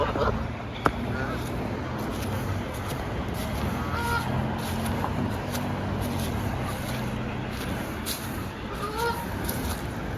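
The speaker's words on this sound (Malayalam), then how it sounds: "തീറ്റ കിട്ടുമെന്ന് ഓർത്താണ് വരുന്നത് ഗൂസ്" Geese come for food and honk repeatedly over a steady outdoor wash of background noise, with people talking in the mix; the calls sit at moderate distance and overlap.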